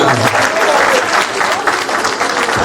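Dense, loud applause from a crowd fills a 50th birthday celebration for a mother, steady clapping with no pauses throughout.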